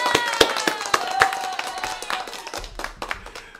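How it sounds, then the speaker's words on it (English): Brief, close clapping for a guest, RN Steve, on a livestream: a few pairs of hands giving sharp, fairly regular claps that thin out toward the end, with a little faint talk. "So I got to give him a quick applause."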